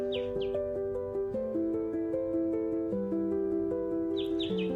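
Morning birds call along the bank of the Sisamara river in Jaldapara after a night of rain, giving a few short, high chirps at the start and again near the end over steady, tonal background music.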